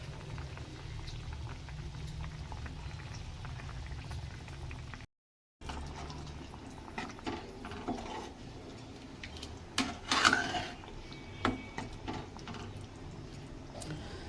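A pot of tamarind and turmeric fish curry base boils at a quiet, steady level, with soft bubbling and faint clicks and rubs from nearby cookware. A brief gap of silence falls partway through.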